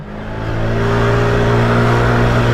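Steady engine drone and road noise from a 50cc moped caught in heavy city traffic, rising slightly in loudness and holding a constant hum throughout, with no talking.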